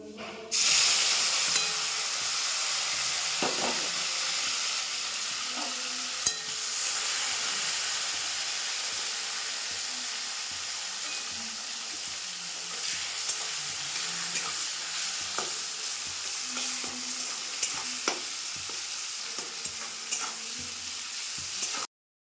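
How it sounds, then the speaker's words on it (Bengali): Onions frying slowly in a pan with ginger, garlic and green chilli paste nearby, giving a steady soft sizzle with occasional stirring scrapes, moderately loud and continuous, no talking. "চলো এবার পেঁয়াজগুলো দিয়ে দিই, ভাজা হোক আস্তে আস্তে।"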